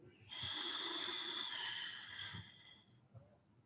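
A long forceful exhale during a yoga breathing exercise, a breathy rushing out through the nose that lasts about two seconds, close to the mic, then fades to quiet.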